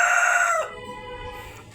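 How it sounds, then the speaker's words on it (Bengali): A slightly sick chicken brought from Rangamati crows, a loud close drawn-out call that ends after about half a second and leaves quiet background. "আর এই মুরগিটা দেখেন এটাও রাঙ্গামাটি থেকে আনছি, তবে একটু অসুস্থ"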